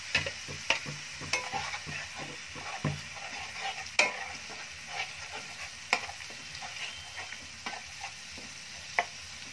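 Garlic paste fries in hot oil with a steady low sizzle, punctuated by sharp clicks and scrapes of a spoon stirring against the pan.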